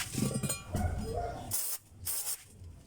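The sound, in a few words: spraying brake cleaner on a Montero Sport's brakes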